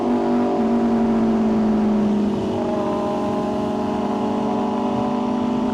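An Aprilia RSV4 sport motorcycle engine revs hard during a wheelie, a loud, close, sustained roar whose pitch holds high then shifts slightly as the throttle changes, with no voices.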